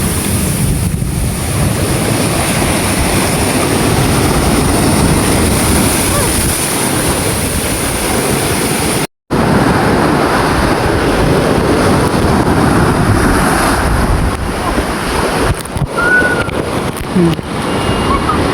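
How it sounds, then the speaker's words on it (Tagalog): Steady roar of heavy surf crashing close by, mixed with strong wind buffeting the microphone, continuous and loud throughout. "Laki ng alon."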